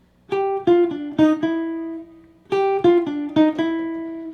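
A short jazz melodic phrase of plucked notes played twice, five quick notes then a held tone, clear and close with no talking.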